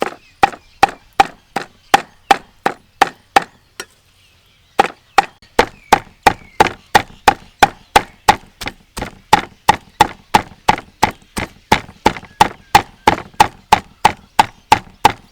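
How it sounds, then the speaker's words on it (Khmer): Rapid, steady chopping: sharp, loud blows of a cleaver striking pork on a board, repeated in a fast rhythm with a brief pause partway through. "បន្ទាប់មកយើងច្រាំសាច់ជ្រូក"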